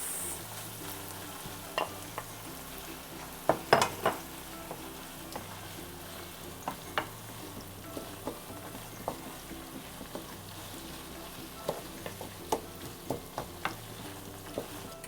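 Ground beef fries and browns in a pan for Filipino-style spaghetti, a steady close sizzle with a regular pattern of sharp pops and spatula taps, no talking.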